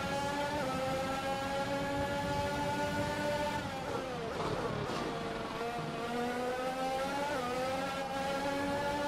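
An F1 car in the game F1 2021 at Catalunya accelerates through its gears, the high engine whine rising and dropping at each shift, steady and continuous with no talking.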